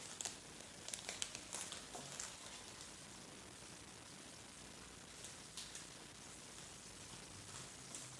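A very thin paper envelope being handled close up, soft crinkling and rustling with scattered small crackles over a steady hiss, faint and continuous.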